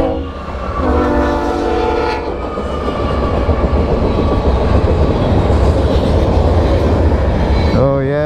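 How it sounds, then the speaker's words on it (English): A mixed freight train passes close by, its horn sounding in sustained harmonic blasts at the start, then steady loud rumbling and wheel clatter of railcars throughout, with a brief rising whine near the end. "Oh yeah, it's a mixed up train too."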